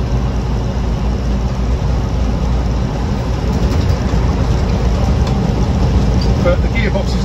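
The engine of a 1971 Land Rover Lightweight with a Series 3 gearbox, running on the move in cold weather, a loud continuous low drone with steady road rumble throughout.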